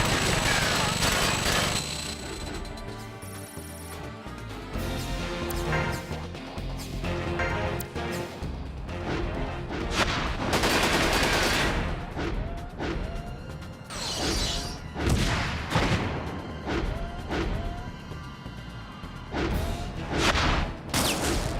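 Missiles and gunfire from a mech battle in the video game Front Mission 5 burst repeatedly over a dense bed of game music and mechanical effects, with loud crashes and booms recurring throughout.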